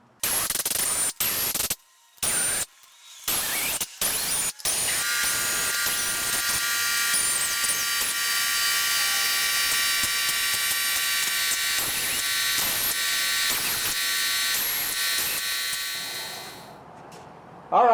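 Power tool tightening bolts on a 19hp Kohler engine of a 2004 Cub Cadet mower, in a garage: several short bursts of whirring, then a long steady loud run that fades out near the end.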